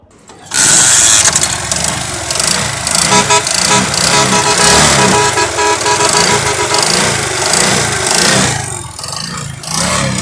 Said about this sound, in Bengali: বাইকটা যদি স্টার্ট দিয়ে দেখানোর চেষ্টা করি আপনাদেরকে